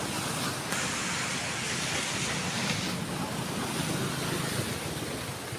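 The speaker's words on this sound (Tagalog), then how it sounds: "Ito yung dagat." Sea surf at dawn, a continuous broad wash of waves rolling in at a moderate distance, steady and unbroken with no voices.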